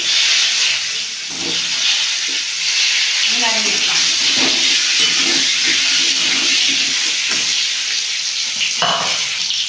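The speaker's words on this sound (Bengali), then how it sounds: "কেটে রাখা পটলগুলো আমি তেলে দিয়ে দেবো।" Pieces of pointed gourd frying in oil seasoned with turmeric and salt, a loud continuous sizzle and hiss with occasional spatula stirs and clatters, no talking.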